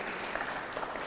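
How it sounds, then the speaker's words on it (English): Brief, faint applause from a conference audience for a speaker named Nkosia, a soft wash of many hands clapping heard from a distance. "Can we give a round of applause for Nkosia?"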